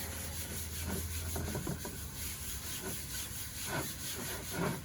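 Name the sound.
rubbing stain over wooden drum shell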